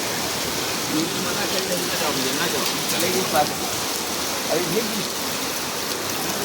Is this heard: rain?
yes